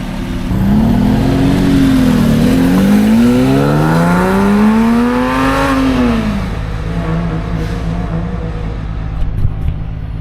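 A Porsche 911 with a center-exit exhaust on a GT3 rear bumper revs up and down in a couple of rising and falling sweeps, loud and close, with a steady idle rumble underneath.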